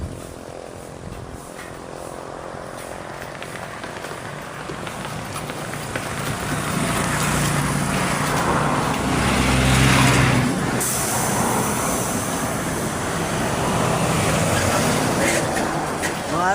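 Traffic on the Maharlika Highway rolls past in a steady roar of cars and trucks, swelling as heavy vehicles go by close, with a voice talking faintly underneath.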